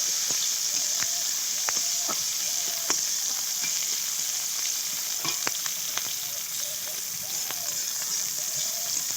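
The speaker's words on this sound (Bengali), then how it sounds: "পেঁয়াজগুলো একটু ভাজা হবে" Onions sizzle steadily in hot oil, a constant bright hiss dotted with occasional soft clicks and scrapes from stirring.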